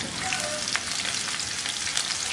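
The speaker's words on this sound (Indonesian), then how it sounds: "Kita akan gongsong terlebih dahulu atau kita tumis terlebih dahulu bawang merah dan juga bawang putihnya sampai nanti wangi." Shallots and garlic sizzle in hot oil in a wok, a dense, even crackle of frying close up and loud, with faint stirring scrapes and no voices.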